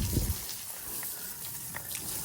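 Water pours and splashes onto potted bonsai plants during watering, a steady close gush with a few louder spattering bursts, no talking.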